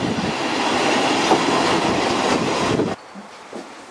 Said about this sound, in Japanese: 列車を撮っております